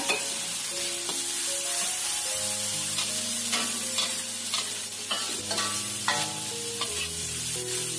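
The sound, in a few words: stir-frying carrots and peas for fried rice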